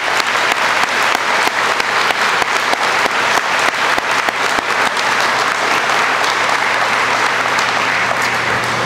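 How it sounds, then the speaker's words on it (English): A hall full of family and friends gives a loud, sustained round of applause for fire service instructors at a recruit class graduation, thick even clapping with no break. "So let's give a round of applause to our instructors,"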